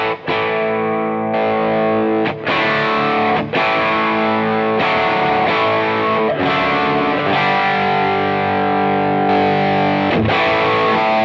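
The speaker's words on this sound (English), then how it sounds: "you can kick in gain B, which brings it into a more sort of 80s sort of drive tones" An electric guitar plays through a Cornell Studio Rats prototype amp on an 80s lead drive setting, with loud distorted sustained notes and chords and brief gaps between phrases, heard alone with no talking.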